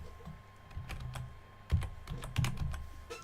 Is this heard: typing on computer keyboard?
yes